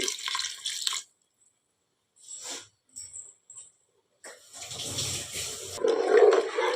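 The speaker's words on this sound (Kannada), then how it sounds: "ನಾನು ನೋಡಿಕೊಂಡು ಅಂದಾಜಿಗೆ ಒಂದು ಅಂದಾಜಿಗೆ ನೀರು ಹಾಕೋದು" Water splashes and pours into a pot of dill leaf pulao in a few separate bursts with quiet pauses between, ending in a longer, fuller pour.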